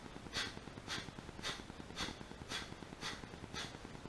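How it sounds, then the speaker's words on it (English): Breath of fire yoga breathing through the nose, a series of quick, sharp nasal exhales at an even rhythm of roughly two per second, close and soft, with no talking. "So you do the same, but with the nose. That's the breath of fire."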